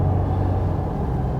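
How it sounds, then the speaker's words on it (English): A truck passing on a mountain road over a high pass rumbles loudly and close by, a steady low roar with no clear rise or fall. "Truck just came blasting by me"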